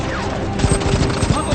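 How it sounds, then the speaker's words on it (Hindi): Rapid bursts of gunfire crackle through a dubbed action-film scene set in the world of apes at war, the shots overlapping in a dense volley against a rumbling low backdrop. "हम पर गोलियां चल रही हैं"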